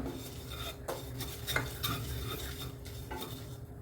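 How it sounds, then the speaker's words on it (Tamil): Dry oats are roasted in a pan and stirred steadily with a utensil, making soft scraping and rustling with faint scratches of metal. The stirring is close and quiet, with no talking. "இப்போ ஓட்ஸை வறுத்துக்கலாம்"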